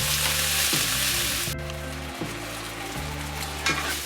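Beef pieces fry in a pan for slow cooker beef tikka masala, giving a steady, close, loud sizzle. Lower tones hum under it, and a brief shift comes partway through, maybe meat being turned or stirred.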